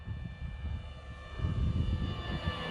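An RC model airplane flies with flaps in use, its steady engine drone holding throughout and swelling slightly louder partway through, with no talk over it.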